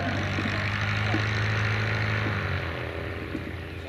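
A vintage Martlet propeller aircraft at the Shuttleworth Edwardian air display gives a steady, rough engine drone at moderate distance that eases off slightly toward the end.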